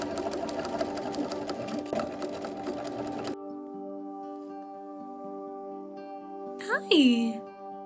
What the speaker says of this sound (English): Start understitching on the lining itself, pretty close to that seam, all along the seam that you just sewed.